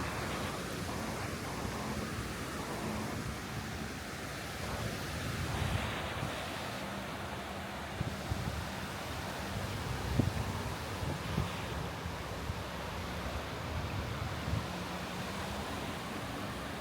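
Ocean waves washing along a beach lined with resorts in Olongapo, Philippines, a steady broad surf rush with wind noise over the microphone, continuous and fairly loud with no voices.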